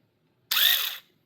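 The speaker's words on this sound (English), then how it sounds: "So we're going to have to take a trusty little drill bit and a trusty little screwdriver and get that hole sorted." A small drill bit bores a hole through a 3D-printed resin cast in one short, close burst of high whirring grind that starts abruptly and stops after about half a second.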